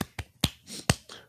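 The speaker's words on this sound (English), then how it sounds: "I'm clapping off beat and stuff" A few sharp hand claps land at uneven, off-beat intervals, close and crisp, about five distinct slaps in quick succession with short gaps between them.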